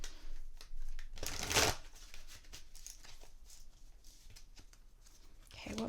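Crystal Mandala Oracle card drawn from the deck during a reading: a close shuffle and papery rustle builds to a louder scrape of card stock, then quieter handling and a short, soft voice near the end.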